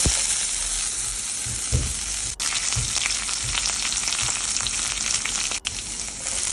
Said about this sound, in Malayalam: ഒരു പാൻ അടുപ്പത്ത് വെച്ച് ചൂടാക്കി അതിനകത്ത് ഓയിൽ ഒഴിച്ച് കൊടുക്കുക എന്നിട്ട് കടുക് ചെറിയ ഉള്ളി കറിവേപ്പില വറ്റൽമുളക് ഇതെല്ലാം ഒന്ന് ഫ്രൈ ചെയ്തെടുക്കണം